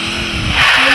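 In the Free Fire game, a brakeless motorbike skids, a loud rising engine whine and screeching tire squeal that swells sharply over about a second, up close.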